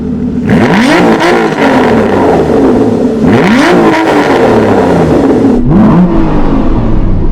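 An Aston Martin 4.7 V8 engine with a deep tone is revved hard three times in quick blips, loud and close, settling back to idle between each.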